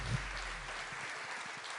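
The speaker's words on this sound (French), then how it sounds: "On peut vous applaudir plus fort que ça, s'il vous plaît" Applause from the audience at a Lot-et-Garonne awards event, a moderate, steady rustle of many hands clapping with a low thump at the start, sustained at an even level.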